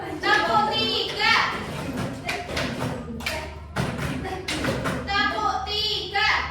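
A classroom of children performs a group clap pattern, several bursts of sharp, rhythmic hand claps near and loud, alternating with children's voices chanting and talking in between.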